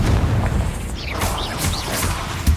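Bombarda and Confringo spells going off in Hogwarts Legacy, a string of booming magical blasts with bright crackling bursts layered over a dense rumbling bed, fairly loud and continuous.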